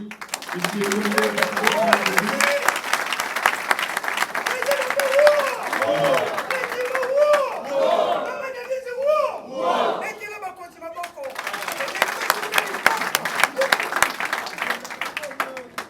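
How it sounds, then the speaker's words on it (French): A large audience at a ministerial ceremony claps and cheers loudly, with shouts and a fervent crowd roar rising and falling over dense applause, and voices carrying through the middle stretch. "que je vous demande d'applaudir"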